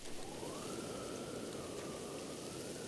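Steady rain falls in The Legend of Zelda: Breath of the Wild, a dense, even wash of drizzle with a faint tonal hum drifting through it, continuous and unchanging for a few seconds with nobody talking.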